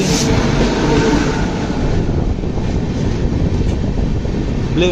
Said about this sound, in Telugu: బెంగళూరు నుంచి ఢిల్లీ వెళ్ళే ట్రైన్ ఇది.